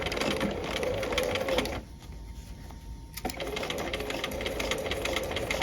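A sewing machine runs steadily, stitching a 5/8-inch seam at a 2.5 stitch length with a back tack on a tab welt pocket. The whirring drops out briefly mid-seam, then resumes at the same close, even pace.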